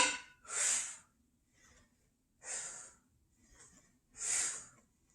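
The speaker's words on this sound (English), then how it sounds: "As you can see, I'm breathing." Heavy breathing during workout crunches: three loud, breathy exhales about two seconds apart, with softer inhales between, close and alone with no talk.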